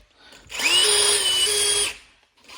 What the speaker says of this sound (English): So this little tool connects on your drill.